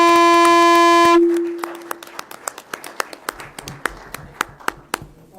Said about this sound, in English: Please give them a round of applause for everything that they do.